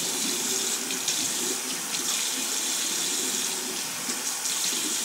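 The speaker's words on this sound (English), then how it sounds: "now the water is running clear" Steady tap water runs continuously into a sink while makeup brushes are rinsed under it, a close, even splashing hiss with small fluctuations and no talking.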